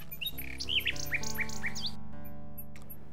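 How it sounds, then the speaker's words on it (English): A small bird in the King's Quest VI adventure game gives a run of bright, quick chirps and tweets over a steady synthesized music backing, then falls quiet near the end. "The little bird makes a delivery."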